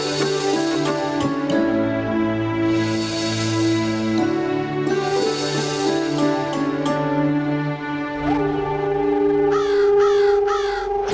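Crows caw repeatedly and loudly over a steady, dense bed of sustained musical drones and tones, the harsh calls rising clearly above the continuous background throughout.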